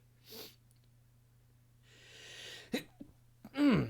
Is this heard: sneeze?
yes